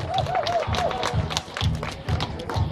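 Applause at an outdoor award ceremony for children's races around Pühajärve: scattered crowd clapping in loose bursts, mixed with an amplified announcer voice speaking over it.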